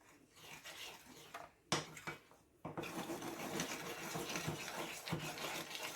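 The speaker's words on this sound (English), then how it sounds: "You just want to stir that around until all the cocoa is mixed in." Milk and cocoa are stirred into marble cake batter, a soft scraping and rubbing in a bowl that starts faint, pauses briefly, then carries on as a steady, moderately loud churn.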